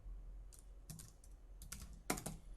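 A computer keyboard is typed on in short bursts, with scattered light clicks and a few firmer key strikes, quiet and close with no talking.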